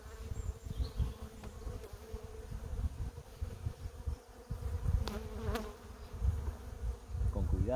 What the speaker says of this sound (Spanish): hay abejas por aquí y podemos eliminarlas